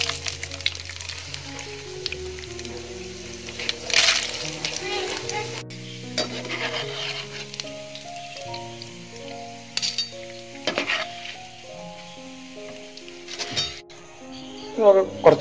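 Peanuts and roasted gram fry in hot oil for a homemade Kerala spicy mixture, a steady close sizzle with stirring and occasional clinks of a utensil against the pan, while music plays underneath.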